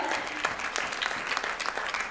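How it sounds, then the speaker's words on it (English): A crowd at a hospital launch event claps steadily for a couple of seconds, with no talking. "Let's have a round of applause for Dr. Veda."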